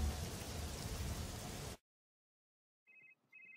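Rain pours steadily in a cartoon, a loud, dense wash of falling drops that cuts off abruptly, followed by silence and a few faint tonal beeps.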